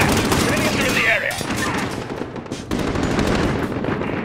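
Sustained automatic gunfire in the video game Call of Duty Modern Warfare (2019), dense and loud throughout, with voices calling out amid the shooting.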